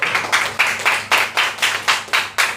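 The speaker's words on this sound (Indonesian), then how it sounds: "kasih tepuk tangan buat kelompok 1" Children in a primary school classroom clap in unison for a group, about ten sharp claps in a steady rhythm, close and fairly loud with no talking.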